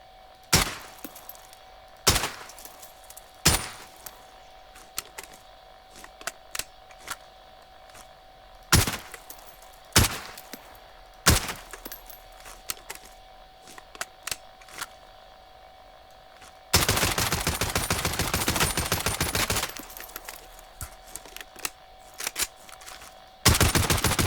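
ODEN rifle fire in Call of Duty Warzone: a series of loud single shots and short bursts at irregular intervals, then a sustained heavy automatic volley, close and dominant with no talk.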